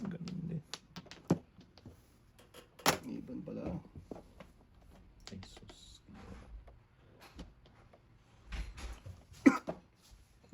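Several separate coughs and throat-clearing sounds, close and fairly loud, scattered between quieter stretches with some soft tapping and clatter in the background.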